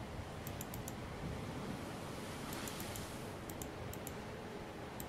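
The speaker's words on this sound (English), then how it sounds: "waves are almost putting me to sleep" Ocean waves in The Room Two video game wash in a continuous soft surf and wind-like roar, steady and enveloping, with faint high ticking sounds over it and no voices.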